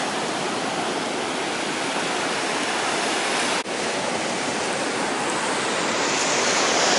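Sand poured from a large carbon-fiber or RTG sand scoop back into a dug hole while metal detecting, a steady close hiss of falling grains running unbroken with one brief dip midway.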